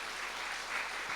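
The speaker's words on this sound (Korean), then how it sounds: "우리 자녀들 위해서 박수로 크게 축복합시다" Congregation in a church applauding to bless their children, a short, even wash of many hands clapping at a moderate, slightly distant level with no speech over it.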